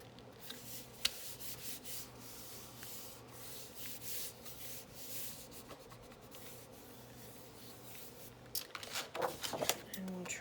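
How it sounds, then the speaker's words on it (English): A glue stick is rubbed across paper in a journal, producing soft, close scraping strokes in repeated bursts, with quiet speech audible in places. "We'll get an initial stick down with the glue stick."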